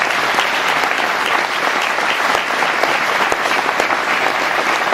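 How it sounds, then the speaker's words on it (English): A banquet audience at a Kendallville Chamber event gives a round of applause, a dense, steady wash of many hands clapping that is loud and sustained throughout, with only faint crowd murmur beneath. "Give this guy a round of applause"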